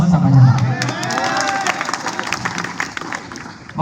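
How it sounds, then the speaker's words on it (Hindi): An audience at a comic poetry recital in Narsinghpur breaks into dense, steady clapping with some cheering, loud at first and then gradually thinning toward the end. "बहुत बहुत धन्यवाद, तालियां बजाई"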